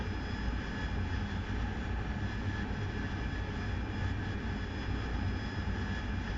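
An AV-8B Harrier's jet engine roars steadily in a combat flight game, a continuous, even drone with no talk over it.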